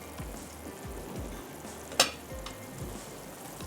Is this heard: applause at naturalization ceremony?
no